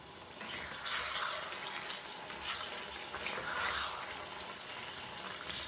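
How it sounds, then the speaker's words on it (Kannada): Water poured into a pot of millet kichdi (saame/little millet) on the stove, a steady soft rushing splash with faint bubbling and utensil clinks running throughout, no talk. "ನಾನಿಲ್ಲಿ ಮತ್ತೆ 1 ಕಪ್ ಆಗೋಷ್ಟು ನೀರು ಹಾಕ್ತಾಯಿದ್ದೇನೆ."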